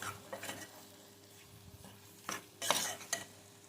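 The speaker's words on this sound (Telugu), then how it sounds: "బాగా మిక్స్ చేసుకుందాము." Salt and chilli powder stirred into mutton lung curry in a pot, with a soft sizzle under a few scraping spoon strokes and a louder clattering burst near the end, close and fairly quiet, no talking.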